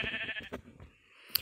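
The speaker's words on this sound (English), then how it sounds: "No, you can't feed sheep." A Minecraft sheep gives a short bleat up close, followed by quieter game sounds and a brief click near the end.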